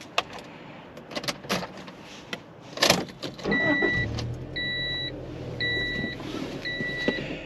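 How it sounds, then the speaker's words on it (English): A stock 1995 Honda Civic DX EJ2 started by remote start: clicks and a power-window whir, then the engine settles into a low, steady idle while several short electronic beeps sound over it. "with these remote starts, it will run until you put your foot on the brake"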